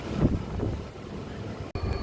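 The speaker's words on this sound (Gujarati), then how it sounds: "આપણી ટ્રેન અત્યારે ઉપડી ગઈ છે" Steady low rumble of a passenger train departing and rolling along the rails on the Keshod to Bhavnagar line, heard from on board, continuous and fairly loud, with a brief dropout near the end.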